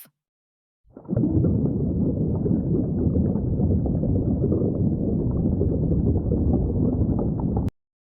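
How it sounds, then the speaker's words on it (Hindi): A boat sound effect, a loud, even, low rumbling roar that starts abruptly, holds steady for about six and a half seconds and then stops dead, with nothing else heard. "प्यारे बच्चों, ये है बोट नाव"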